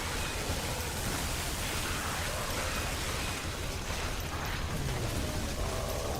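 Acid rain pours down in the video game The Riftbreaker, a dense, constant hiss of falling rain at steady loudness with no breaks and no talk.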